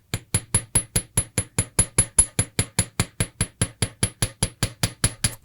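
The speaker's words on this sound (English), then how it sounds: "I'm going to go ahead and again hammer nice and evenly" Steady, even hammer blows ring out as wire is planished on a metal block, about four strikes per second, crisp and close with nothing else around them.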